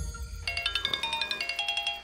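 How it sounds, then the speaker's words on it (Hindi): A phone ringing in a repeated electronic pattern of quick, bright pulsing tones, fairly close and steady, with no voices over it. "फोन तो बज रहा है भाई, उठाएगा अभी"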